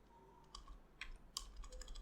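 Someone types a command into a terminal on a computer keyboard, giving a few faint, sparse keystrokes in a quiet room.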